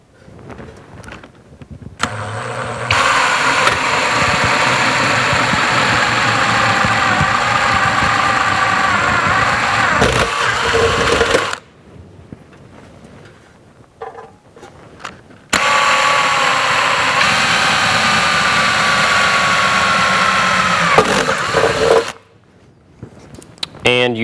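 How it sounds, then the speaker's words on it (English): A power drill bores holes through the sheet metal of a handmade toolbox, sounding as two long, loud, steady whining bursts with a quiet gap between them. "And we can drill those holes."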